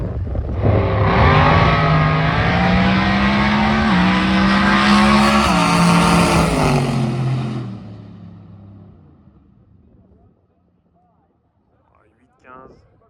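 A blue Corvette makes a drag racing pass at Sick Week, its engine roaring loud and close for about seven seconds with rising pitch through the gears before fading off, leaving near silence with a brief faint noise at the end.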